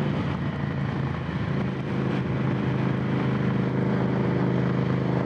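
Ducati Monster 797 motorcycle engine while riding, a steady loud drone of engine and wind noise at cruising speed, continuous and close with no talk.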